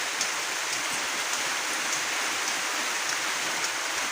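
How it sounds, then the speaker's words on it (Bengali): Heavy rain pours down steadily under a cloudy sky, a dense, constant hiss of drops on surfaces with no pauses, loud and close throughout. "কি পরিমাণে বৃষ্টি, তাই না?"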